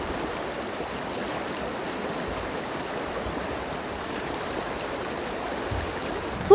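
A swollen forest stream floods through a village and rushes as steady broadband water noise, continuous and even in level throughout with no voices.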